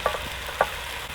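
Tomato goes into a hot tempering for a Gujarati vegetable dish, frying with a steady sizzle. A couple of quick stirring scrapes sound close by with no talking.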